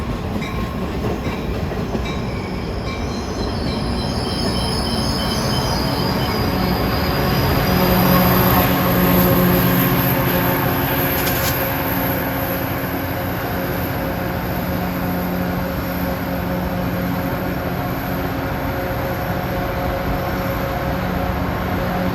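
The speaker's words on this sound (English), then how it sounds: "And 837 arriving is train 513. San Jose to San Francisco limited stop train." A Caltrain San Jose to San Francisco limited stop train pulls in trackside, diesel engine rumble and wheel clatter building to a loud peak with steady tonal whine and faint squeal, then settling into a sustained rolling rumble.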